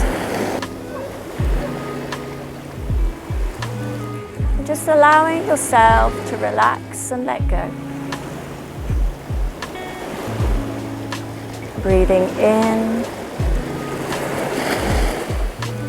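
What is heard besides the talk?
water waves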